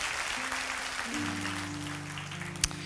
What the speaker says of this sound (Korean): 뜨거운 박수로 한번 다시 한번 감사를 드리고